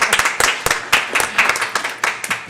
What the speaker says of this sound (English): I think you deserve some applause